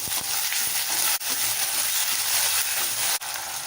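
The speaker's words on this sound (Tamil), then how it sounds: "தக்காளி நல்லா வதங்கி வரட்டும்" Tomatoes sautéing in a pan for veg salna, a steady, moderately loud sizzle and hiss with a few stir clicks and two brief breaks, no voices.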